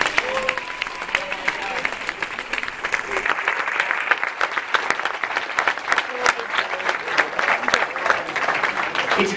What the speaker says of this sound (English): You guys give me a round of applause.